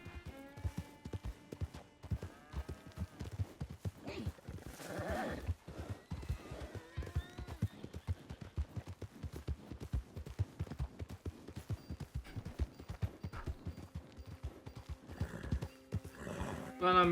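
A horse in a video game neighs and whinnies repeatedly over a steady run of clip-clopping hooves, close but quiet, with a voice talking at times.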